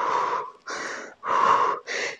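Forceful exhaled breaths during a bicycle crunch ab exercise in a home HIIT workout, four loud, close puffs in a steady rhythm with short pauses between.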